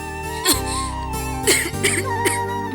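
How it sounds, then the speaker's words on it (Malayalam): A few sharp coughs, three separate bursts spaced about a second apart, heard up close over a sustained musical background. "പിന്നെയും ചുമയുണ്ടല്ലോ."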